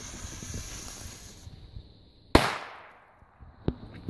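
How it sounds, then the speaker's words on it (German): A small China Böller A firecracker from a Weco/Helios Big Bang set explodes with a single sharp, loud bang and a quick fading tail, followed by a fainter second pop, over quiet outdoor background. "So, jetzt der China Böller A."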